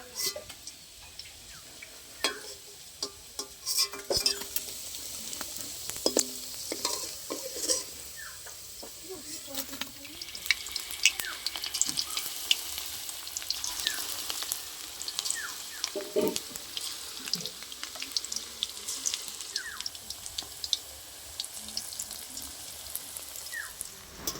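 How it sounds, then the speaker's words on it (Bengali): Onion stalk pakoras fry in hot oil, giving a steady crackling sizzle with scattered sharp pops and ticks, close by and fairly quiet. "বাকি পকোড়াগুলো ভাজা হয়ে গেছে, এবার তুলে নিচ্ছি আমি সব"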